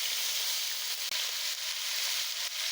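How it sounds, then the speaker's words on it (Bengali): Onion, garlic and ginger paste frying in oil in a wok gives a steady, moderately loud sizzle with a constant crackling hiss and no talking over it. "আমার আদা রসুন পেঁয়াজ একটু ভাজা ভাজা হয়েছে"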